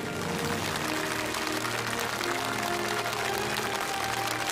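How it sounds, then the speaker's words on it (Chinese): Studio audience applause at a televised talent challenge show, a dense, continuous wash of many hands clapping at steady loudness with no voices on top. "把掌声送给孙丽娟奶奶"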